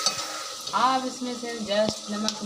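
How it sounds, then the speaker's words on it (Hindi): Masala of chili, turmeric, dried coriander and cumin sizzles steadily in a pan for desi chicken salan cooked over a wood fire, with spoon stirring scrapes throughout and a voice briefly speaking over it. "और मसाला हमारा भूनता जा रहा है।"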